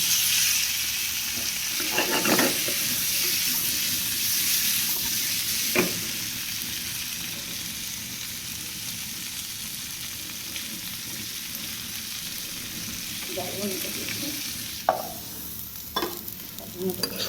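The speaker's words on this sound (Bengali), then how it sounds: "আলুটা লাল লাল করে ভেজে নেব" Potatoes frying in a pan after eggs were cooked in it, giving a steady, close sizzle throughout with a few brief scraping stirs near the start and end, no voices.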